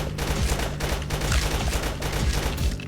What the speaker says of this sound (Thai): ยิงเพื่อเปิดทางให้รถเราแบบเสียหายน้อยที่สุด